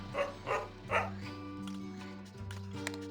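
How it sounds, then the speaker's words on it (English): A dog barking in a video game, three quick close barks over a steady musical background, then quieter soft yips. "Can I see this dog?"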